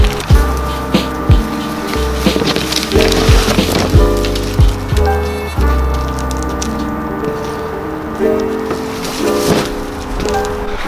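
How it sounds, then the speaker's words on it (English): Hail falls steadily and loudly, a dense patter with sharp, irregular thuds striking wood and other hard surfaces outdoors, near and continuous throughout. "it's actually hailing."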